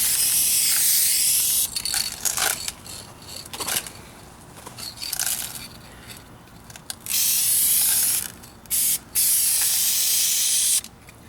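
Duplicolor Perfect Match spray paint hisses in light coats onto the rear bumper of a 2004 Kia Spectra: a run of short, uneven bursts, then longer steady sprays near the end, loud and close.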